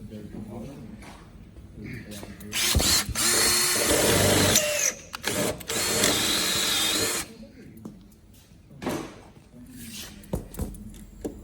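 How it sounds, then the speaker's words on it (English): A power drill whirs loudly in two sustained bursts, drilling a hole to mount awning brackets, close up, with brief clicks and handling noises around it and a voice talking in between. "I've got to drill the hole, actually."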